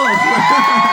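A live audience at a K-pop group's debut anniversary fan event cheers and shouts in an excited, sustained burst of whoops and screams, loud and close throughout.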